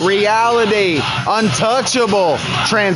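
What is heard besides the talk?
No everyday noises stand out.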